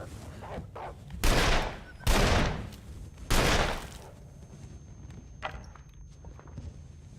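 Three sharp revolver shots ring out in the survival video game The Long Dark, spaced about a second apart. Quieter footsteps and faint thuds surround them.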